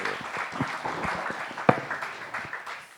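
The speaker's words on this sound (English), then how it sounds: "Thank you, and also applause to Dr. Nielsen for this wonderful tour." Applause from an audience after a talk at a scientific conference, moderate and somewhat distant clapping with a sharp nearby clap midway, gradually tapering off.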